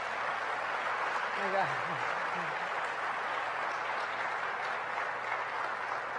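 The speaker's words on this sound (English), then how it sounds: "So I want to give a round of applause to Governor Brad Little, who's joined us." Broad, even applause from a crowd fills the whole stretch, with a voice briefly audible beneath it.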